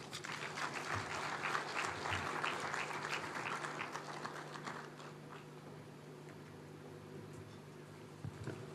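Applause at a Ugandan taxpayer award ceremony, a broad crowd clapping that is fairly strong for the first few seconds, then thins and fades to a quiet room hum with a steady low drone.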